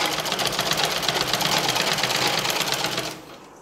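A sewing machine runs steadily at speed while stitching folded edges of a mosquito net for a window, loud and close with a fast, even mechanical whir that cuts off near the end.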